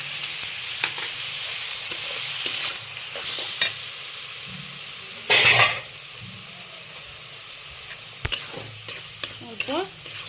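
Greens with salt and turmeric stirred and fried in a pan, a low continuous sizzle with repeated scraping strokes of a spatula, one louder burst of frying midway and clinks toward the end, close and without talk.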